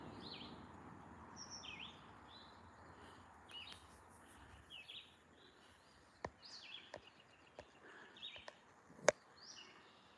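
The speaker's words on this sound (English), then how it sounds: "I think that was a yellow warbler." Faint, quick bright yellow warbler phrases repeat at intervals from a distance over soft outdoor hiss, with a few sharp clicks near the end.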